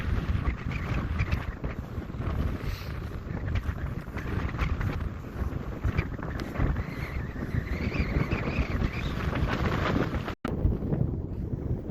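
Strong wind blasts across a mountain saddle on a Colorado winter hike, buffeting the microphone with a loud, continuous rumbling roar and gusty flutter throughout, with one brief dropout near the end.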